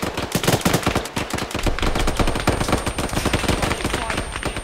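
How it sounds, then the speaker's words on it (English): Rapid bursts of gunfire from a military shooter game ring out loud and close, with automatic fire and overlapping shots forming dense, steady volleys throughout, with no voices in between. "Shots to the southeast, cover me!"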